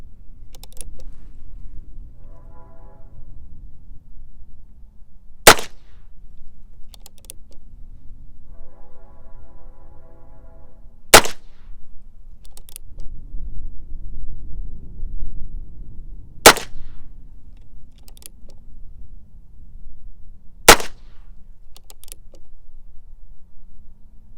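A Heritage Rough Rider single-action revolver fires .22 Long Rifle bulk ammunition: four sharp, loud shots spaced roughly five seconds apart over a low background rumble, with faint handling clicks between them and no speech.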